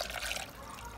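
Water poured over cooked chiles in a blender jar for a sauce for steak rolls, a steady close trickle and splash running the whole second.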